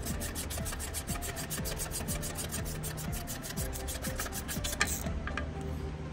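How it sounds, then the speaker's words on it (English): 3/8 ratchet clicks rapidly and evenly while tightening lug nuts by hand during an RV-DE-FENDER installation, close and steady for about five seconds before stopping. "Again, using a 3/8 ratchet, do not use your impact gun on these."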